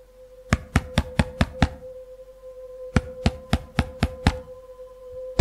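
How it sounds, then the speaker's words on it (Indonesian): Sharp wooden knocks on a door, two quick bursts of about six raps each separated by a pause, loud and close over a faint steady hum. "Tiba-tiba, terdengar jelas pintu diketuk oleh seseorang."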